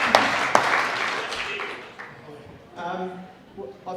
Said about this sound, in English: Dave deserves a big round of applause